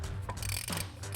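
Brake line bolt on a Dodge Charger front caliper being loosened, a short run of close metallic ratcheting and mechanical clicking with no talk.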